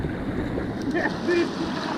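Kayak or small boat being paddled on open water on a Swiss/Dolomites road trip, a steady wash of water and wind with light splashing strokes, with voices talking faintly.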